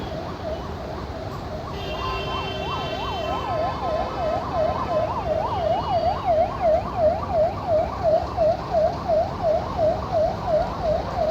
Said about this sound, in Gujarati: પાછળ એમ્બ્યુલન્સ આવે છે, આપણે સાઈડમાં ઊભા રહી જઈએ શાંતિથી